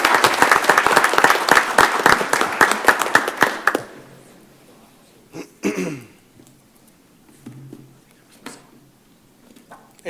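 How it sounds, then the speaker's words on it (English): An audience applauds a workplace team for a few seconds, the dense clapping ending abruptly and leaving a quiet room with scattered coughs and small noises. "Another round of applause for an awesome team,"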